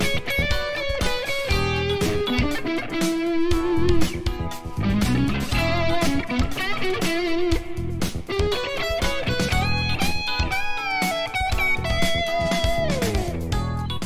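Music played back from a Logic recording session with reverb, delay and stereo effects: layered sustained tones and melodic lines with a steady, full level throughout, no talking.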